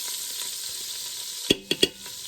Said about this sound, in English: We're gonna add 1 tablespoon or so of butter in here to our olive oil, and we're gonna get up all that goodness in the bottom of this pan there.